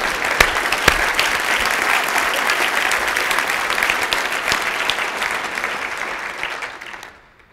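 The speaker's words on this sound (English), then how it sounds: "I think we should give all elected officials in this room a big round of applause" A large audience at a regional assembly keynote claps loudly and steadily for several seconds in a dense, even roar of hands that fades out at the end.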